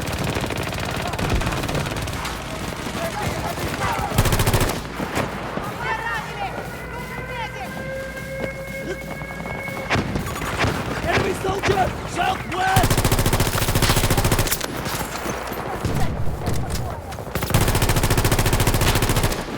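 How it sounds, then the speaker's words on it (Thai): A rapid-firing gun in Battlefield 2042 rattles off loud, fast automatic bursts in several stretches, with other battle noise and a speaking voice between them. "ปืนเรามันลั่นโคตรเร็วเลยนะจริง ปืนผมแม่งลั่นอย่างเร็วอะทุกคน"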